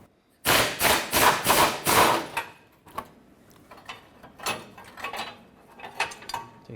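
A ratchet clicks in a fast, loud burst of about five strokes while removing a 10mm bolt from a bumper bracket on a 2009-2014 Ford F-150, followed by quieter scattered clicks and light taps.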